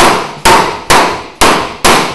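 A hammer strikes metal during an oil pan replacement on a car, ringing out in five loud, evenly spaced blows about half a second apart, each decaying quickly and heard alone without talk.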